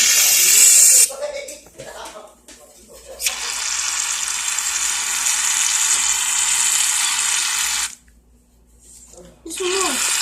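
Sustained loud hiss of shaving cream sprayed from a can for homemade slime, running for several seconds in two long bursts with a short pause, people talking around it.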